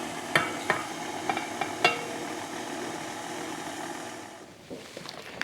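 An electric mixer beats flour into cookie batter at low speed, a steady whirring hum with a few sharp knocks of the beaters against the bowl before the motor winds down.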